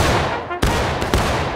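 Musket fire in the Civil War video game War of Rights, with a dense, loud crackle of gunfire, a sharp shot cutting in and another following a moment later over continuous battle noise.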